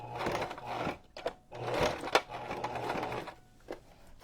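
A sewing machine runs a wide single stitch through a junk journal cover in bursts, its steady mechanical whir stopping and starting with short pauses between runs, close and clear.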